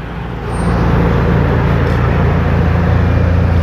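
Loud, close passing vehicle carrying stubble for cows on a village road, a broad rumbling roar that rises quickly and then holds steady.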